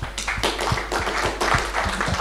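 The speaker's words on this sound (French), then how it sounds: "je crois qu'on peut vous applaudir" An audience at a thematic seminar session applauds after an introductory address: a brief run of steady, close-together claps from a small group, with no talking over it.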